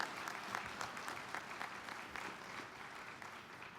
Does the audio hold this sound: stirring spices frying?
no